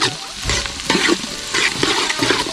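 Native onions are sautéed in a pan for a rib curry, with loud scraping and stirring strokes about every half second over a sizzling hiss.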